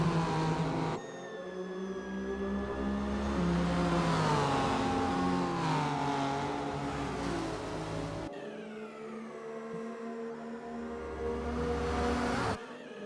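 Race cars from a 12 Hours of Sebring sim race, Ferrari, BMW, Porsche and Acura among them, roar side by side down a straight, engines droning and revving steadily with a brief shift and pass partway through.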